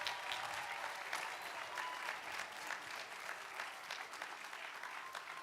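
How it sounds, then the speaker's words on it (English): Sustained audience applause at a university graduation ceremony, a large crowd clapping steadily and evenly for about five seconds at moderate distance, with no talking over it. "Let's give them a round of applause."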